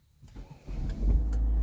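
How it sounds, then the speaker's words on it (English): A Kia Sportage engine starts with a short crank and catches into a low, steady idle that grows louder and settles. "then start the engine"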